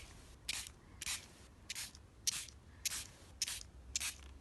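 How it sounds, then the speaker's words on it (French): Bursts of water misted from a spray bottle onto watercolour paper, seven short hissing puffs in an even rhythm, close and fairly quiet, with no talking. "Je rajoute un petit peu d'eau."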